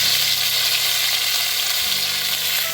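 Curry leaves hitting hot coconut oil with popped mustard seeds in a pan give a steady, dense sizzle that holds loud and even throughout, with no talking.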